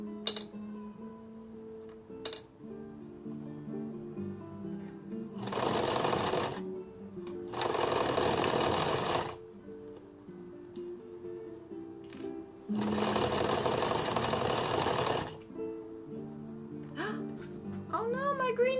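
A sewing machine runs a finishing zigzag stitch on a carbon sequestration costume, in three separate close bursts of whirring a few seconds each, with quiet pauses and faint clicks between them.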